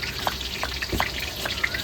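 Potato pieces fry in hot oil in a home kitchen, giving a faint, steady sizzle scattered with small crackles and pops.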